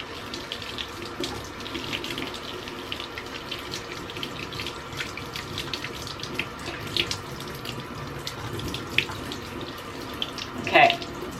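Running tap water pours steadily into a sink as a synthetic paint brush is rinsed of soap, a continuous close splashing wash with a small brighter splash near the end.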